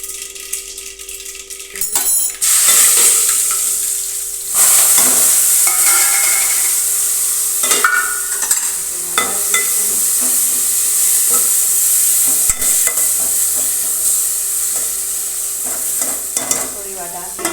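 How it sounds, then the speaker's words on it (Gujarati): Asafoetida and curry leaves hit hot tempering oil that already holds mustard and cumin seeds, setting off a loud, bright sizzle with sharp spattering pops and occasional clatters of stirring, close and continuous with no speech. "વઘાર થઈ જાય એટલે પછી આપણે હિંગ અને લીમડો નાખી દઈશું."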